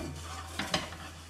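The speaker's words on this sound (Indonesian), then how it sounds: "Kita goreng sampai gosong kecapnya." Sweet soy sauce fries in a non-stick wok pan, a soft steady sizzle with a couple of brief scraping stirs close by.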